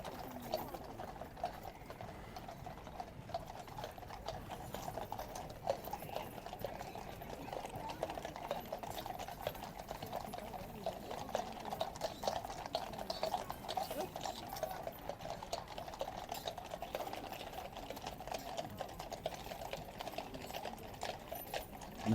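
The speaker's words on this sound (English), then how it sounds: "The King's Life Guards riding down the Mall, and one of the horses was definitely slightly freaked out for a moment then" The King's Life Guards ride down the Mall in London, their horses' hooves clattering in a dense, steady stream of clip-clops, heard at a moderate distance over the murmur of a busy crowd.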